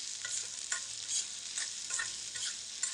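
Onions frying in a pan and being stirred until reddish, a steady close sizzle punctuated by regular scraping strokes of a spoon, fairly quiet and without voices.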